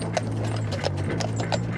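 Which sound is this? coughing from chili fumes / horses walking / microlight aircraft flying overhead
horses walking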